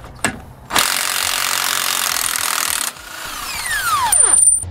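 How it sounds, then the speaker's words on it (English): A ratchet and 1 1/8 inch socket loosen the two nuts on a rear U-bolt of a 2018 Ford F-53 chassis, giving a loud continuous whirring spin close up, then a rising metallic squeal as the nut spins off. "We're going to need to take off the two nuts on the rear U-bolt. So we'll grab a 1 1/8 inch socket."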